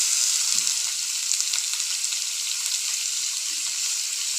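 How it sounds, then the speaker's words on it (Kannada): Chopped onion and tomato frying in a pan for a cauliflower curry, giving a steady, dense hiss and crackle throughout, with faint stirring scrapes. "ಸ್ವಲ್ಪ ಚೆನ್ನಾಗಿ ಒಂದು 2-3 ಮಿನಿಟ್ಸು ಫ್ರೈ ಆಗಲಿ"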